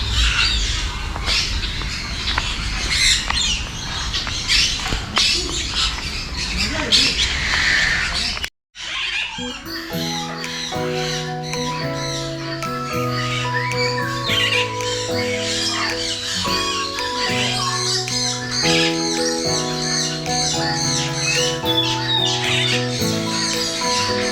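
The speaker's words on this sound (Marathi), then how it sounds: "या व्हिडिओमध्ये पूर्णपणे तुम्हाला पक्ष्यांचाच आवाज ऐकायला भेटेल" Birds at a bird park squawk and chirp in a busy, overlapping chorus, near and lively, with a brief drop-out partway through before the calls carry on with distinct repeated notes.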